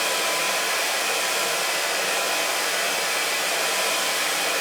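A hair dryer blows steadily at close range while straightening hair with a round brush, giving a continuous even broadband whoosh with no talk over it.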